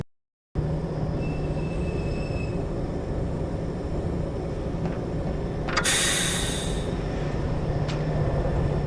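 A train arrives at a station in Half-Life 2 with a steady heavy rumble of rolling rail cars, a few brief metallic clanks and a sharp burst of high wheel squeal midway, all close and loud.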